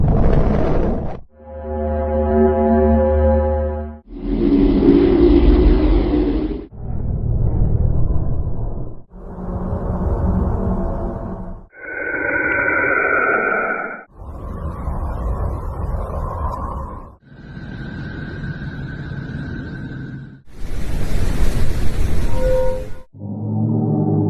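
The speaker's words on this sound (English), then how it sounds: "scientists have found a way to convert these radio waves from space into sound waves. So, let's listen to these mysterious space sounds." A string of about ten separate droning tones, each lasting a couple of seconds with brief gaps, comes from space radio waves converted into sound. Each tone shifts to a new pitch, some buzzy and some hollow, all loud and steady with no talking.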